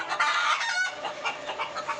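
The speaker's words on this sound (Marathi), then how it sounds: "हे आहेत आपल्या आधीच्या बॅचच्या गावरान कोंबड्या" Native village hens from an earlier batch at a Jalgaon poultry farm cluck and squawk close by in quick, overlapping calls, loud and without speech.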